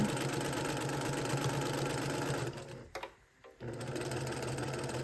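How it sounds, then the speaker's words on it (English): Domestic sewing machine stitching rows of quilt pieces with a quarter-inch seam, a steady close whirring hum for about two and a half seconds, then a brief stop and quiet pause before the stitching resumes at the same even pace. "I'm gonna keep using my 1/4 inch seam allowance right here, and I'm gonna sew through my rows here"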